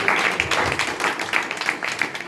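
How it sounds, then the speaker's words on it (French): An audience at a holiday resort welcome gathering claps, a steady wash of applause from many hands, moderately loud and continuous throughout. "Vous pouvez l'applaudir bien fort, s'il vous plaît."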